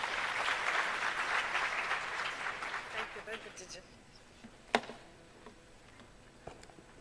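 Audience applause at the launch event for 4IR centres of excellence; a moderate, distant-sounding round of clapping that fades out over about four seconds, followed by a few faint knocks and clicks.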